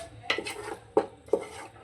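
A spoon stirs yogurt into country-chicken biryani in a metal pot, giving three distinct close scraping clanks against the pot over a faint background.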